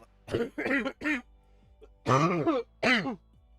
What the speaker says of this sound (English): I'm starting to cough more and more